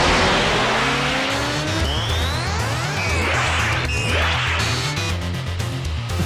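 Animated street-race scene with roaring car engines that rise in pitch as the cars accelerate and shift, plus tire squeal, loud and continuous with no talk.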